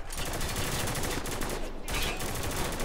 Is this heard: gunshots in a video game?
yes